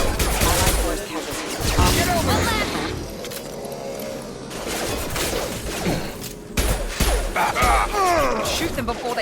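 Sci-fi gunfire from the video game Mass Effect 2 crackles in rapid, repeated bursts through a busy battle mix, loud and dense, with voices talking over the shooting at times.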